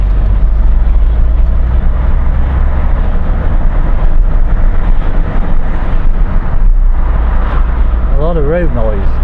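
Steady, loud low rumble of road noise fills the cabin of a car driving around Barrow town, with a brief wavering tone rising over it near the end.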